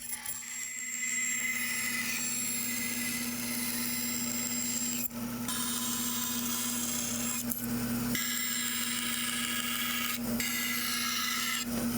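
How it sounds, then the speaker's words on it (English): A hand tool saws and files away support tabs left on a milled part, a continuous loud rasping scrape with a steady hum underneath, broken by a few short pauses between strokes. "So now I need to cut away all the supports and tabs left over from the milling process."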